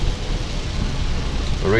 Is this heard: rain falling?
yes